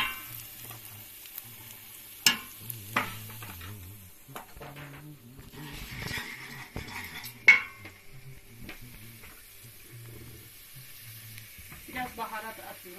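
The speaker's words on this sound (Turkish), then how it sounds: "Şöyle kırmızı biber atıyorum, kendi yaptığım, bahçemden toplayıp yaptığım biberlerimle." Homemade red pepper flakes go into a sizzling frying pan, with steady frying hiss, a spoon scraping and stirring, and occasional clinks against the pan.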